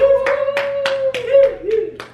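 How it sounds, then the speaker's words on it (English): A family claps for a little girl, Zara, at home: several hands strike in a steady rhythm of about seven sharp, close claps, with a sustained tone running underneath. "Let's everybody clap for Zara"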